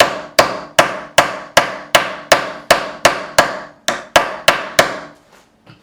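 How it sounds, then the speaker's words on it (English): A fretting hammer knocks a fret into the fretboard of a Gibson SG Standard during a refret. About thirteen sharp, evenly spaced taps ring out close and loud, then stop, leaving near silence. "I am then going to take the fretting hammer and I'm going to knock it in"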